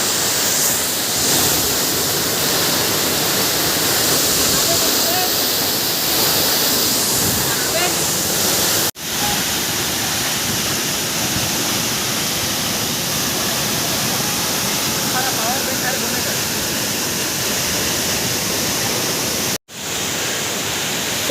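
The Nagrada waterfall at Sakti cascades in a loud, continuous roar of falling water that fills the whole stretch, heard close by and steady throughout.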